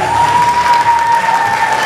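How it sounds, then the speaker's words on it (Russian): Continuous audience clapping for parents at a school Last Bell graduation, dense and steady for the whole moment, with a high steady tone running beneath it. "Продолжаем аплодировать."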